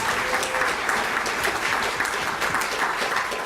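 Sustained applause from the audience in a legislative chamber during a senator's address to the Alaska Legislature, a steady dense wash of many hands clapping throughout with no speech over it.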